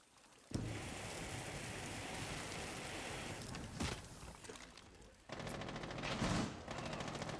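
Rapid automatic gunfire from a tactical shooter video game, a dense continuous rattle of shots that dips briefly and then resumes, sounding busy and close.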